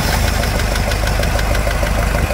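A damaged diesel engine idles with a loud, rapid, rhythmic knocking that repeats evenly throughout, close by and without speech.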